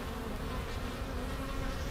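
Dense, continuous buzzing of many honeybees, guard bees at a hive in winter, close and steady, with no voices.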